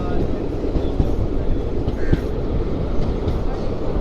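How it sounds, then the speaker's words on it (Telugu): The Tirupati Guntur Express stands at Pakala Junction station, giving a loud, close rumble with scattered clanks and a busy platform background. "ఇక్కడ చూడండి తిరుపతి గుంటూరు ఎక్స్ప్రెస్ ట్రైన్ అయితే ఉంది."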